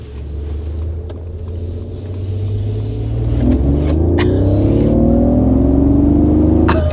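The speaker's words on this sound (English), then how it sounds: "we want to go ahead and start with a hard acceleration" A 2025 Mercedes G580 G-Class electric SUV under hard acceleration gives a steady, rising motor whine and low rumble that swells louder over several seconds, with tonal sweeps climbing as speed builds and no talking.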